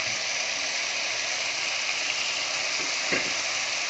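Garlic cloves and sliced onion fry in a pan for a beef-in-brown-sauce dish, giving a steady close sizzle with a brief scrape of stirring near the end.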